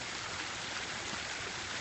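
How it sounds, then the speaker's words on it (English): Water spills steadily over a pondless waterfall in a water feature showroom, a soft, continuous trickling rush heard faintly and evenly throughout with no talking. "Here's our pondless waterfall."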